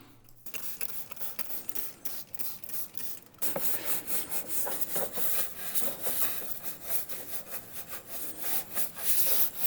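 A RAM 6.7L Cummins engine scrubbed by hand, producing close, rhythmic brushing and rasping strokes that grow louder and denser after a short, quieter opening.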